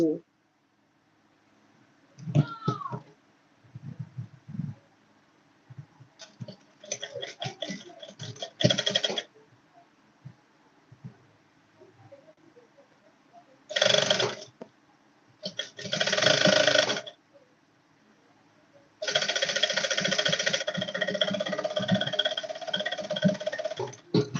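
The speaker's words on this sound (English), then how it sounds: "So I'm sewing the dart" Short bursts of a sewing machine stitching a dart on a corset yoke, several separate runs of whirring with pauses between, the last one longest; a voice speaks in the quiet gaps.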